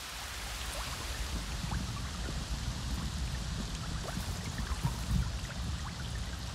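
Steady rainfall in Avatar: Frontiers of Pandora hisses continuously across the whole stretch, a dense even wash of droplets with a few scattered splashes, moderately loud and without speech.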